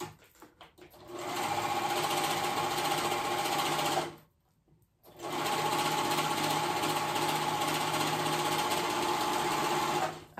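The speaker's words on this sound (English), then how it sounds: "right sides together again at the other end, now that our interfacing is on. And we're gonna sew that together" Sewing machine stitching fabric with interfacing, right sides together, while making paperbag pants: a steady close whir running for about four seconds, a brief pause, then another long continuous run.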